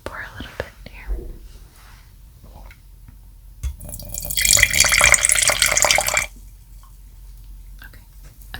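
Wine pours into a glass in a quiet room, a soft liquid gurgle and splash lasting a couple of seconds between faint, close whispers.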